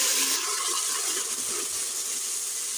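Water gushing steadily into a cooking pot with garlic-ginger paste for zeera rice pulao, a continuous close splashing pour with no talk.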